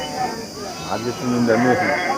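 Medium-sized sheep bleat at the Gudur weekly livestock market, a couple of wavering calls rising near the middle and end, heard beneath nearby people talking.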